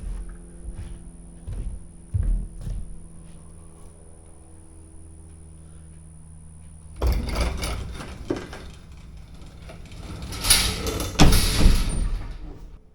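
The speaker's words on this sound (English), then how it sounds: "So let me shut the door again." Enclosed trailer ramp door with assist springs being swung shut: quiet creaks and clicks at first, then a loud burst of rattling, scraping metal mechanism noise and heavy clunks as the ramp closes, with no talking.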